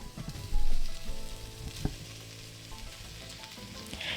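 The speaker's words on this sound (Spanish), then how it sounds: "Vamos a cocinar a fuego bajo durante unos 5 minutos" Bell pepper and garlic fry over low heat in a pan, giving a steady, dense sizzle with a brief louder clatter of stirring near the start and one sharp tap partway through.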